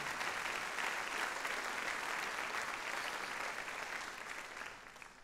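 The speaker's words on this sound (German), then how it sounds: "Ja, können wir Jesus mal Applaus geben." Church congregation applauds in a sustained, even wash of clapping that holds strong before tapering off toward the end, with no voices over it.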